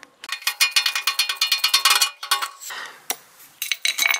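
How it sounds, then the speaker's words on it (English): A Phillips head screw is loosened inside the wheel well of a Subaru Crosstrek, making a close, rapid run of bright metallic ratcheting clicks, followed by a pause and a few scattered clicks. "we will just go up and loosen up that Phillips head screw"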